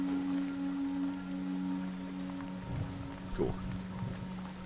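Rain falls in the video game Once Human as a soft, steady patter under a low hum, with a faint short spoken word and a few quiet footstep-like thuds.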